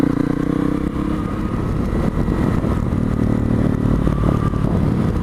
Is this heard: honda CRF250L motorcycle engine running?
yes